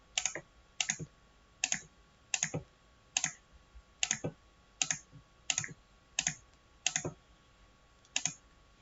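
Typing on a computer keyboard while editing subtitles, about a dozen short close clicks and key taps in separate bursts, evenly spaced over quiet room tone.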